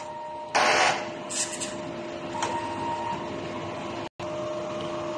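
A DTF printer running a print head cleaning cycle, whirring mechanically with a steady hum, a sharp burst of spraying noise early on and a few brief clicks and shifts, close by with no talking.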